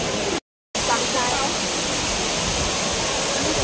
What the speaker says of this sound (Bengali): পৃথিবীর সবচেয়ে বড় আর্টিফিশিয়াল ঝর্ণার সামনে আছি